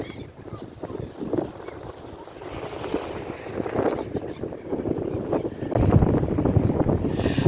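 Cold, gusty wind at minus 6 degrees buffeting the microphone in uneven bursts on the Black Sea shore in Odesa, growing stronger toward the end, with faint background sound of the open shore.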